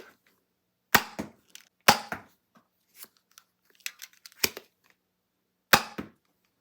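A 3D-printed kit built onto a Nerf Stinger, the painted version without brass, fires full-length foam darts: four sharp spring-air shots with small mechanical clicks between them, close and clear.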